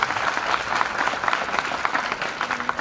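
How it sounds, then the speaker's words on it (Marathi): A crowd claps loudly in a hall at a college annual gathering's inauguration ceremony, dense sustained applause from many hands, fairly close, with no speech over it. "त्यासाठी एकदा जोरदार टाळ्या वाजायला पाहिजे"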